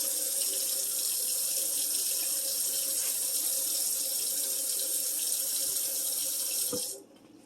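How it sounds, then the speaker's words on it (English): Tap water runs steadily into a sink while raw beef is rinsed, a constant close splashing flow that stops abruptly near the end, leaving quiet room tone. "The beef is all rinsed, so is the cutting board and the knife."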